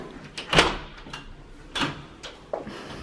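A locked door is worked open indoors at home: a few sharp clunks and rattles of the latch spaced through a few seconds, close and moderately loud.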